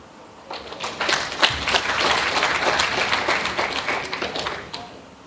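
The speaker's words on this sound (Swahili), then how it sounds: "Ninashukuru sana kwa kulipongeza hilo kwa kupiga makofi." An audience applauds after a remark at a formal Tanzanian public address on protecting the Union, a dense burst of clapping that starts suddenly, holds steady for several seconds and then thins out.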